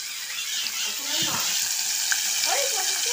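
Small fish coated in wheat flour sizzle and crackle steadily in hot oil in a pan, a constant hiss with voices talking faintly underneath.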